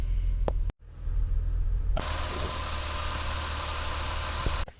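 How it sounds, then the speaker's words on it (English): A 2000 Honda car engine catches after a quieter stretch and settles into a loud, steady idle, close up, with a continuous even rumble and no voices. "And now it runs, it idles."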